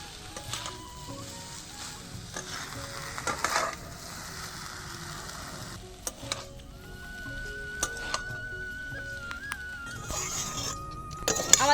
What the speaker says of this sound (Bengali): এখন চাউমিনটা মিশিয়ে নেব ভালো করে